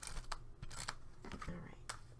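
Scissors snip through craft paper for a farmhouse summer project, several quick close cuts and rustles under a soft, near voice.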